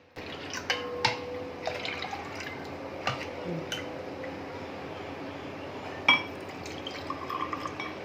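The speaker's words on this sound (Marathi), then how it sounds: "आपण मस्त ग्लासमध्ये सर्व करून घेऊया थंड थंड मठ्ठा" Cold spiced buttermilk poured into a glass, with soft liquid trickling, drips and a few light glass clinks, quiet and close.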